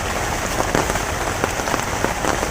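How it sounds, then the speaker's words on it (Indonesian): Steady rain falls on an outdoor surface, a dense close hiss with scattered louder drops patting throughout, alone without any voices. "Turun oge ya hujan"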